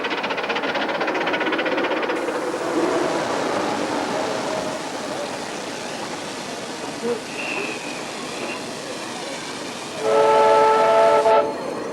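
A 7¼-inch gauge miniature 0-6-0 saddle tank steam locomotive, a 1/8 scale model, rumbles past amid broadband hiss and chuffing noise, ending with a loud, sustained whistle blast near the close.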